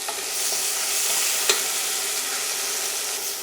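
Venison meat browns in a hot pot with a steady, close, hissing sizzle throughout. A single sharp clink of a utensil sounds midway.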